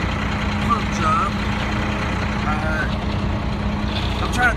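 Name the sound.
concrete mixer truck engine running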